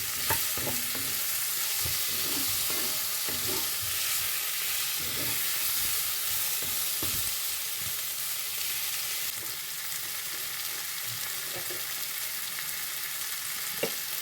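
Dried fish curry ingredients with mango sautéing in a pan, a steady loud sizzle running the whole way with occasional stirring scrapes and clinks over it, no speech.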